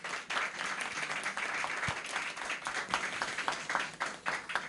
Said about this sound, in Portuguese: Eu queria pedir uma salva de palmas para Lina, Nino, Elhane.